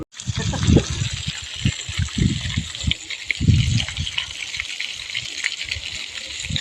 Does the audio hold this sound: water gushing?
yes